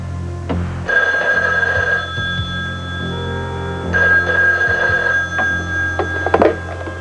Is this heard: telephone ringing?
yes